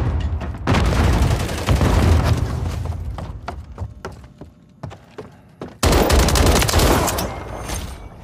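Heavy gunfire and explosions in the video game Call of Duty Modern Warfare: loud sustained bursts of automatic fire, then scattered single shots, then another loud barrage.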